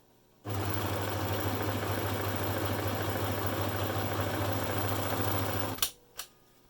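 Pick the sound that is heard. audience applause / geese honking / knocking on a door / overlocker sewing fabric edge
overlocker sewing fabric edge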